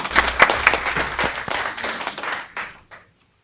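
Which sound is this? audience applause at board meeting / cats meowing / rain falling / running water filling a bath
audience applause at board meeting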